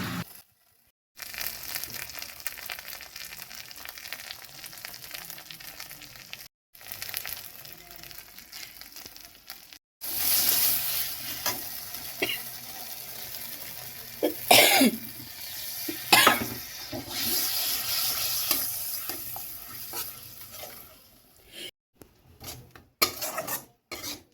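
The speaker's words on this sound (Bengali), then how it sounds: "স্বাদ মতো নুন হলুদ এবং একটু সামান্য মিষ্টি দিয়ে ভালোভাবে মশলাকে কষিয়ে নেব" Spices sauté in oil with salt, turmeric and a pinch of sugar for a thin fish curry with potato and pointed gourd, giving a steady close sizzle with scraping stirs and clinks of a utensil against the pan.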